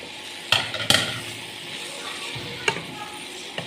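Food being stirred in a pan at a home stove, with a few sharp knocks and scrapes of a utensil against the pan over a soft sizzle. No one talks.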